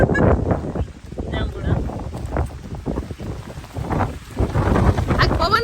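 Gusty wind in an orchard where jamun fruit is being picked thumps and buffets the microphone in uneven low surges, under people talking throughout.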